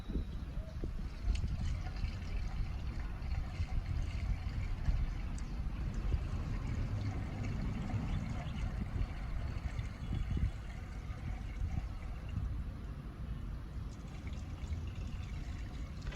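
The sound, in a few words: liquid pouring into and out of a motorcycle tank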